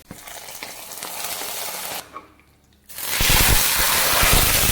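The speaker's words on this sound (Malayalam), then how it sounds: "അര ടീസ്പൂൺ കടുക് മൂന്ന് ചെറുപുള്ളി വട്ടത്തിലരിഞ്ഞത് മൂന്ന് വറ്റൽമുളക് ഒരൽപ്പം കറിവേപ്പില ഇതൊന്ന് മൂപ്പിച്ചെടുക്കാം" Mustard seeds, sliced shallots, dried red chillies and curry leaves fry in hot oil with a loud, steady sizzle and crackle. The frying breaks off briefly, then returns louder and denser as the tempering is poured into curry.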